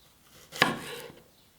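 A knife slices once through a small piece of peeled ginger on a cutting board, a single short, crisp chop up close in an otherwise quiet kitchen.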